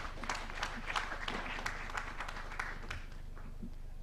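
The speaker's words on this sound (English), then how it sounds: "Let's clap for him as he comes forward." An audience claps for a speaker stepping forward at a COP28 campaign launch, a steady, moderately loud patter of many hands with sharper individual claps scattered through, continuing evenly throughout.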